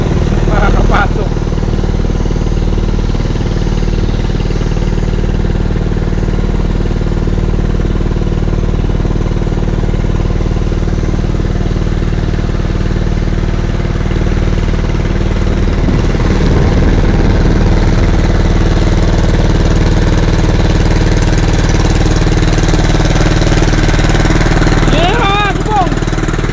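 A boat engine runs steadily and loudly at close range with a constant droning rumble, while voices talk briefly over it.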